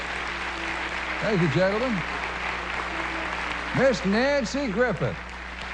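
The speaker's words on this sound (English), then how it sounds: "would you please applaud the Bayou City Music Committee?" A studio audience applauds steadily during the 1990 Nashville Now television broadcast, a continuous wash of clapping running beneath a host speaking over it and swelling slightly between his phrases.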